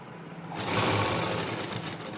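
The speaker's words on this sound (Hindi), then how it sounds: "अब हम बेल्ट के अंदर रखते हुए इसे सिलाई करेंगे" A sewing machine runs in one steady continuous burst, stitching along the edge of elastic tucked inside the waistband of a dhoti salwar, close and fairly loud with no talk.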